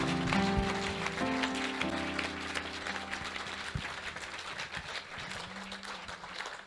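A church congregation applauding and acclaiming the Holy Spirit, with steady dense clapping throughout and sustained organ or keyboard chords sounding underneath.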